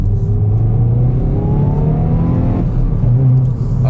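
A 2022 Hyundai i20N hot hatchback in N mode with rev matching blips and revs its engine loudly from inside the car, the pitch climbing steadily, then dropping sharply with a gear change before rising again.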